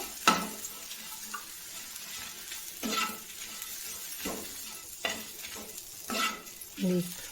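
Dry scraping and stirring of spices and coconut roasting in a hot pan with a faint sizzle, repeated strokes every second or so, close by with no talk.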